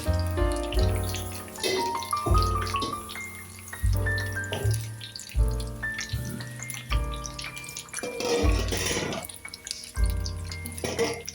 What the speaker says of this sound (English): I'm gonna get some water in the same container here and just rinse it out a little